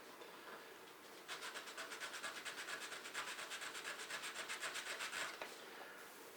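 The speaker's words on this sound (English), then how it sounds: "the way I take care of that is I just get me a piece of sandpaper and" Sandpaper is rubbed back and forth over the cured CA finish on the ends of a pen, making a fast, rhythmic rasping scratch for several seconds. It is close and steady and has no talk.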